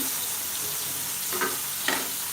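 Green beans being stirred in a frying pan for a glazed green bean and carrot dish, giving a steady soft sizzle with two brief scraping strokes near the end; no talking.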